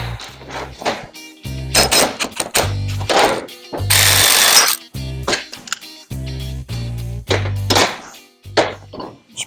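A U-joint press tool forcing out a U-joint on a 4x4 driveshaft, trail-side: loud irregular bursts of grinding, clanking and thunking metal, stopping and starting in uneven strokes with short pauses between.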